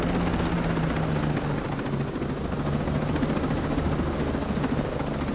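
A helicopter in the military shooter game Ghost Recon: Wildlands sends out a dense, unbroken rotor and engine roar, loud and close throughout, with no voices over it.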